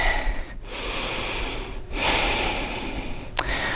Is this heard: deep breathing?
yes